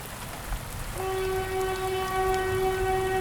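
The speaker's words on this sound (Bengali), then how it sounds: "বেশ কিছুক্ষণ দাঁড়িয়ে থাকার পর অবশেষে ট্রেন আসলো" A train arriving on a rainy night as a horror cartoon sound effect: rumble and rain-like noise, then a long, loud steady horn blast that holds to the end.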